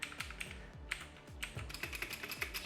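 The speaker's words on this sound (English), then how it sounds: "I don't like the sound of this keyboard." Keys clack in quick, uneven bursts on a discarded computer keyboard, each press sharp and close, with a hollow thud under many strokes; no voices.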